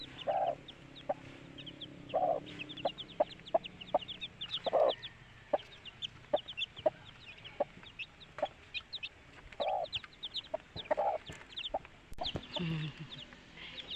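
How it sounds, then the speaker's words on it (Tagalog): Mother hen clucking among her thirteen chicks on a small farm, repeated soft clucks and scattered sharp calls with faint high peeping throughout, fairly close and alone without talk. "Ayan na po, may sisiw po ang ating manok. 13 po ang kanyang sisiw."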